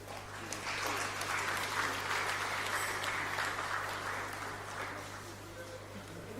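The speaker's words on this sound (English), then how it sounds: "Please, that applause should be better." Audience applause fills a hall at the Niger Delta Agricultural Development and Investment Summit after the Deputy Governor of Akwa Ibom State finishes speaking, a steady, dense clapping over a low electrical hum, holding for several seconds and easing slightly toward the end.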